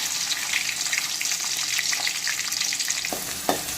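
Small onions and a dried red chilli frying in oil in a kadai, a dense, bright sizzle running throughout with a couple of spoon scrapes near the end, close and steady.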